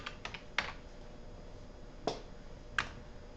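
A few sharp, isolated key taps on a computer keyboard enter a number, quiet and close, separated by short pauses with no voice.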